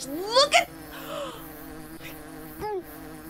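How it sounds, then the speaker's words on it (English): Bees buzzing in the llama-feeding video game Hungry Lamu, a wavering insect drone running through the clip with brief louder passes, under a voice that speaks briefly. "Why are there so many gosh darn bees?"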